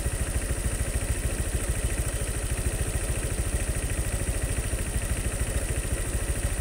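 Honda Vario 125 scooter engine running with an uneven, sputtering beat, a steady rapid low chugging pulse close by and continuous, with no talk.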